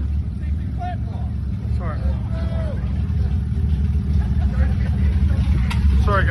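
A Cadillac ATS-V with its exhaust removed rumbles steadily at close range, its engine note dense and continuous, while people talk over it at an outdoor car gathering.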